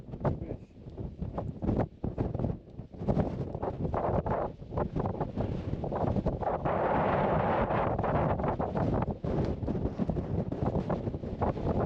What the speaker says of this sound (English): I don't know if you can hear me because it's incredibly windy.